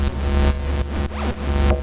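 Drone synth with delay repeats of other voices, a sustained layered tone with sweeping pitch contours rising and falling across nearly two seconds, steady and fairly loud.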